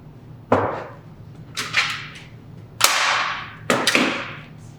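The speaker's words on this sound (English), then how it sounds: "One person can hold while the other person staples." A staple gun drives staples into canvas being stretched over a frame, giving four sharp, loud snaps at uneven intervals, each with a short bright tail, with no talking.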